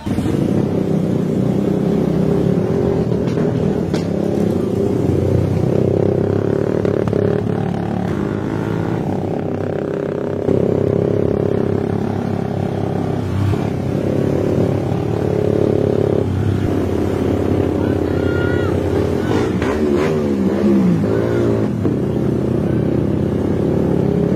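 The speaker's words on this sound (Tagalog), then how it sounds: "Warm up na tong motor ko para sa'yo!" A Raider 150 Fi motorcycle engine with a Malaysian concept setup revs hard at full throttle, a loud, sustained buzzing drone that swells and dips continuously with a few sharper throttle blips near the end.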